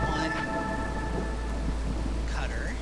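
A thunderstorm in the video game Against the Storm gives a steady wash of rain with a deep continuous rumble of thunder underneath, loud and unbroken.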